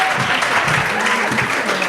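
Award ceremony audience applauding a film honoree, a brief burst of dense, even clapping at constant loudness with faint voices beneath.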